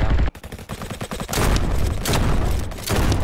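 Rapid bursts of gunfire from a Call of Duty-style Roblox shooter game, loud and dense, with repeated volleys and louder blasts that fill the clip without pause.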